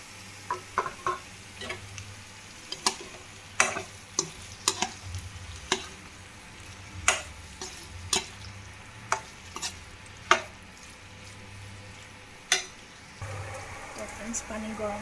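Potatoes frying in a pan for paneer curry, stirred with a utensil: a steady sizzle under repeated scraping clicks at an uneven pace, with a low hum underneath.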